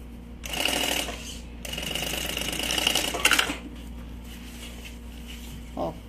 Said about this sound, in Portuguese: e eu costuro ali bem na base, onde deve ficar